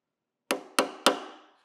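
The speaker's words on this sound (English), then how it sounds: "So I'm gonna take a hammer now" Three sharp, ringing hammer taps drive a small screw into the metal body of a Monarch 10EE lathe, evenly spaced and close, each decaying quickly into silence.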